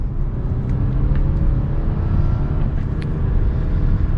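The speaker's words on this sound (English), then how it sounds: "I'm gonna give it a little bit of gas just in normal mode." A 2022 Lexus ES350 accelerating gently in normal mode, heard from inside the cabin as a steady, smooth low engine hum and road rumble that builds evenly over a few seconds, with no talk.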